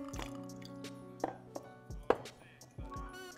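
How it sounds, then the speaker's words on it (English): A quick splash of lemon juice goes into a tequila cocktail, making short wet drips and a soft squish, fairly faint, with a few light clinks around it and a speaking voice nearby. "Just a splash of lemon juice."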